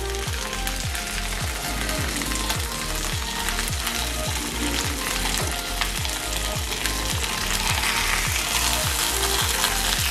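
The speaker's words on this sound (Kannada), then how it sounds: "ಒಂದ್ ಐದು ನಿಮಿಷದ ಕಾಲ ಮೀಡಿಯಂ ಅಲ್ಲಿ ಇಟ್ಕೊಂಡು ಫ್ರೈ ಮಾಡ್ಕೊಳ್ಳೋಣ" Fish frying in a pan over medium heat, a steady dense sizzle with rhythmic crackling pops running throughout, loud and close with no talk.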